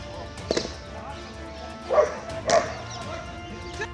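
Trained dogs at the Tekanpur training academy give a few sharp barks, one near 0.5 s and two louder ones close together around 2 and 2.5 s, then a faint yip near the end, over a low outdoor background.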